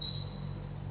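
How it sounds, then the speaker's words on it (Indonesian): A single high, sustained bird whistle at dawn on Mount Wilis, loud at first then fading, over a low steady hum, with no talking. "Dan suara-suara burung-burung pagi kan udah kelihatan kedengeran."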